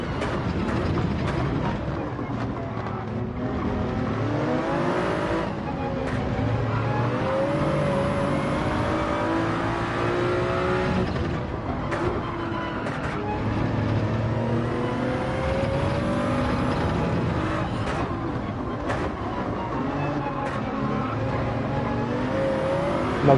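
Gr3 race car engine in Gran Turismo 7 at Fuji, a loud continuous roar that rises and falls through gear changes and revs, running steadily for the whole stretch with no voices over it.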